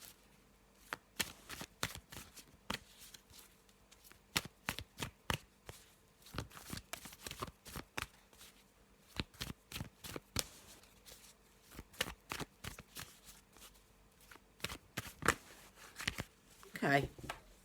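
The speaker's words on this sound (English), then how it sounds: "I'll just give this a good shuffle" Deck of black and white tarot-style cards being shuffled by hand, a long run of crisp riffling bursts and soft slaps in an irregular rhythm, close and fairly quiet.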